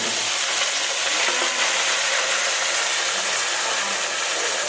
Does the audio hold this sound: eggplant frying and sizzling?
yes